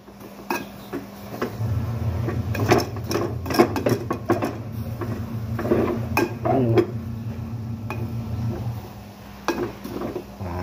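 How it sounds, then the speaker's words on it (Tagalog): A spoon stirs cooked Java rice in a pot, making repeated close scraping clinks and knocks against the metal, with a low steady hum underneath. "haluin pa rin natin yan"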